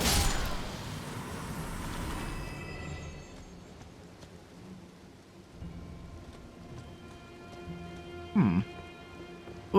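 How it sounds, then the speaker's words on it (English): Steady rain in the Elden Ring game world, a broad hiss with a brief rumble near the end, heard under other game sounds. "I think it's the rain"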